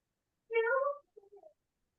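A house cat outside wants to be let in, giving one clear, fairly loud meow and then a shorter, softer trailing meow, close up against a silent background.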